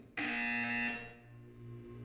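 A loud electronic buzzer from the Portal 2 video game sounds once, a sustained harsh tone lasting about a second before fading into a lower lingering hum.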